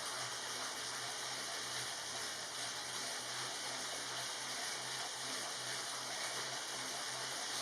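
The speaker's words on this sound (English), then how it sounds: "Now the only noise you hear, of course, is the drivetrain itself" A STAC magnetic bike trainer runs with a bicycle drivetrain turning on it, giving a steady, fairly quiet broadband whir and hiss with a faint low hum, constant throughout with no talking.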